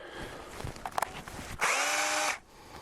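A power drill bores pilot holes for a boat ladder: a few faint knocks and clicks, then a loud, close whine of drilling for under a second before it stops.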